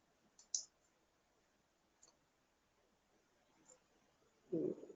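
Faint, sparse computer mouse clicks come from a hospital software training session, a few isolated taps spread across an otherwise very quiet stretch.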